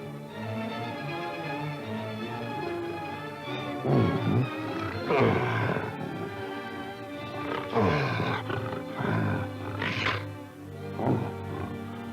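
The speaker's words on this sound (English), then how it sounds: "At any moment, one of the big cats may fly into a blind fury, clawing, clashing, roaring with rage." Lions and tigers roar and snarl during a circus big-cat act in a wild animal trainer's arena, with several loud, close, overlapping roars that rise and fall over steady background noise.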